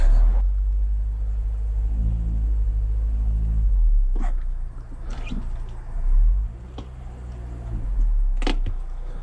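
A BMW Mini with a broken front shock mount is rolled up onto a board, giving a low, heavy rumble with a few sharp knocks and creaks, close by.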